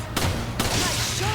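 Two sharp gunshots ring out in quick succession in Resident Evil 5, loud and close, over a faint game background.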